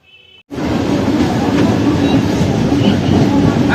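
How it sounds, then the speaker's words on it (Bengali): A train pulls out of Cantonment station with a loud, steady rumble of wheels and carriages that starts abruptly after a brief quiet moment and holds close and constant throughout. "ট্রেন ক্যান্টনমেন্ট স্টেশন ছেড়ে রওনা দিল"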